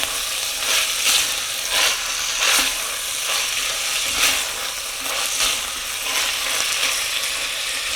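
Ingredients for rice with lentils and sausage or squid sizzle in a pan aboard a boat while being stirred, a steady loud fry broken by repeated rhythmic scraping bursts roughly every second, no talking.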